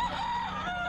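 Chickens at a pet market, a steady bird call with sustained harmonic clucking or crowing, fairly close and continuous, with no talking.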